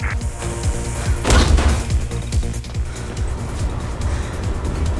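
Gunfire in the Mirror's Edge video game rings out as a series of sharp, irregular cracks and thuds, with one heavier crashing burst near the middle, amid busy game sound effects.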